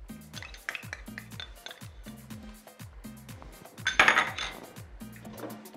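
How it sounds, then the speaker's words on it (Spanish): Chayote and tomato sauce go into a pot for a Dominican-style beef stew, with repeated metallic clinks and knocks of utensils against the cookware and one louder clattering splash partway through. "Ahora le voy a echar la tayota, la salsa de tomate."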